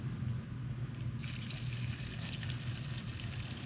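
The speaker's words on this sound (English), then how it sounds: "I'm just going to get my gallon of lacquer thinner and fill it." Lacquer thinner poured from a gallon can into a spray gun cup, a steady close liquid stream with a low hum beneath it, running alone throughout.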